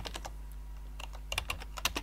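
Computer keyboard typing while coding in Android Studio: a few scattered key clicks at first, then a quick cluster of sharper, louder taps, close and isolated with no talking.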